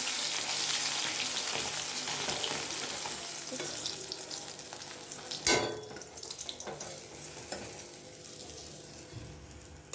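Fish fry in a pan with a steady, hissing sizzle that slowly fades, broken by one sharp clunk midway; no one speaks.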